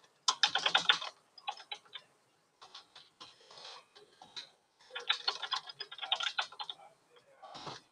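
Bursts of rapid, crisp clicks from someone typing on a computer keyboard, coming in two main flurries with a sparser stretch of keystrokes between them, close and clear with no talk.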